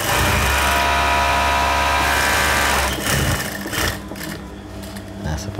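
A sewing machine stitches a school bag, a loud, fast mechanical whir that runs continuously for about three seconds, then slows and fades into quieter, intermittent machine noise.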